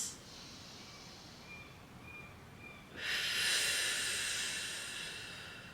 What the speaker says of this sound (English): keep getting those big deep breaths